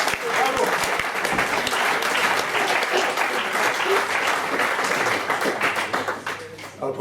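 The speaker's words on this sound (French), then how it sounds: "Vous pouvez vous applaudir." A theatre audience at a stage show in Montbrison breaks into loud, sustained applause with crisp individual claps, easing off slightly toward the end as a voice comes in.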